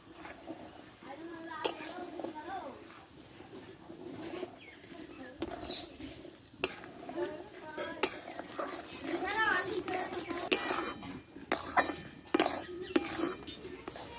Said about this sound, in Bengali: এইভাবে আমি আস্তে আস্তে আমি নাড়তে থাকবো